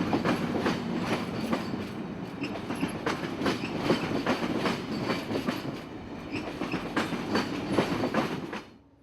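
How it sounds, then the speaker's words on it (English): An Amtrak 91 passenger train rolls on from the station at Winter Haven, a loud, steady rumble with repeated rhythmic clickety-clack of wheels over rail joints, close by and alone, cutting off abruptly at the end. "A few off and a few on at Winter Haven, and Amtrak 91 moves on towards Sebring,"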